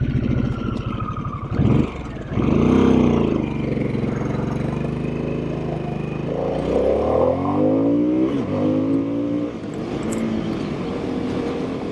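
A Harley-Davidson Sportster S motorcycle engine revs and accelerates loudly up close, its deep throaty roar climbing in pitch through several rising sweeps across the run.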